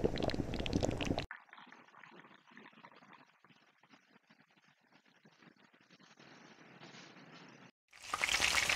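Onion frying gives a quiet, crackling sizzle that runs for several seconds, cut off at each end by abrupt loud bursts of other sound.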